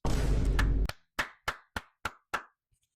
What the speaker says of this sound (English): Clap that up.